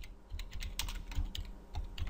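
Someone types on a computer keyboard in a quick, uneven run of close, crisp key clicks, heard alone without talk.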